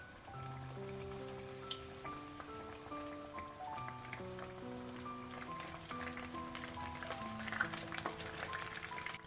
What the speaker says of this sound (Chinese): 接下来锅里倒入适量的食用油，油温5成热，将裹满面糊的莲藕一个一个放进来